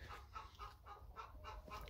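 Several chickens cluck softly on grass in a quick, uneven series of calls, close by and fairly quiet, with no talking.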